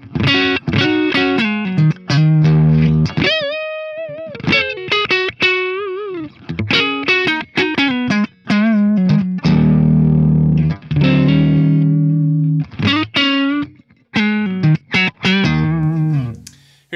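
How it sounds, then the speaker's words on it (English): An ESP E-II Eclipse electric guitar with active pickups, played on the neck pickup through distortion, ringing out a loud, continuous run of sustained chords and single-note phrases with brief pauses and no talking. "We're gonna go to the neck pickup now and see what that sounds like."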